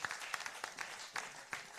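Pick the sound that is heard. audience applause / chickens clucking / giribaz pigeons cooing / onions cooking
audience applause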